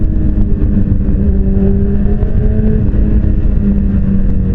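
A sport motorcycle, either a Suzuki GSX-R750 or a BMW S1000RR, is ridden with its engine droning loudly and steadily, the pitch rising and falling gently with throttle and mixed with wind noise.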